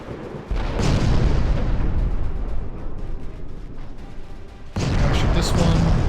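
Warship guns fire in Ultimate Admiral: Dreadnoughts, with heavy booming salvos and rumbling blasts that swell twice. A voice talks over the gunfire.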